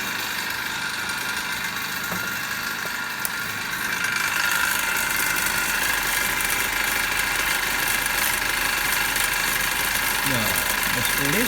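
An electric DC motor in a lab spins steadily at 1522 RPM, giving a constant mechanical hum and whir that grows slightly louder partway through and holds evenly, with light rattling on top.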